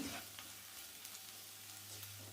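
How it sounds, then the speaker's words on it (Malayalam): Sliced onion sautés in a pan, producing a faint, steady sizzle with a few light stirring scrapes over a low background hum, brief and quiet. "സവാള ഇതുപോലെ നന്നായിട്ടൊന്ന് വഴറ്റിയെടുത്താൽ മതി"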